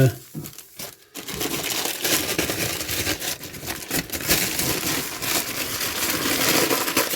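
A plastic bag of saved Rhapsody Wight garlic crinkles and rustles as it is handled, with close, continuous crackling after a few sharp crumples at the start, and someone speaking at times.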